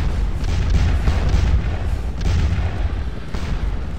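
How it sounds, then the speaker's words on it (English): Artillery fire sounds in the video game Scourge of War Waterloo during the Battle of Waterloo, with repeated deep booms rolling over one another in a continuous low rumble. "Damn the artillery. Artillery is really going to work here."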